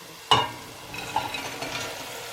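Mixed vegetables for pav bhaji dropped into hot masala with a sharp clatter, followed by a steady close sizzle and a few stirring scrapes as they start to fry.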